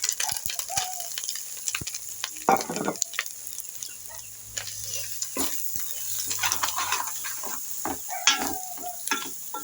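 Dry red chillies, garlic and cumin fry in a pan with soft sizzling, punctuated by irregular clicks and scrapes of stirring, fairly quiet and close.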